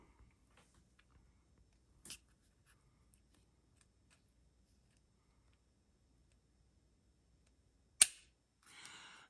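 Handgun trigger being dry-fired indoors: a single sharp click, a long quiet gap, then a crisp louder break followed by a softer, brief reset click, with no talking.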